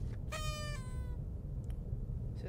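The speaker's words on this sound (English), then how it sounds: "So that's a sound Green makes when he's near you." Proximity sound of the Green character in the Roblox game Rainbow Friends, a short wavering, meow-like tonal call heard once over a steady low background rumble, fairly faint, followed by faint clicks.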